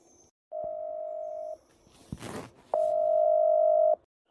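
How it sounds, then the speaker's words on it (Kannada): A phone ringback tone sounds twice: two long, steady electronic beeps separated by a pause with a brief rustle in between. "ಇನ್ನು ರಿಂಗ್ ಆಗ್ತಾನೆ ಐತಿ"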